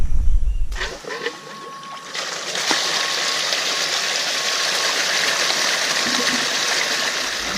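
Water rushing steadily through a gold sluice box set at a shallow angle, a dense, continuous close-up gush and splash following a brief low rumble at the start.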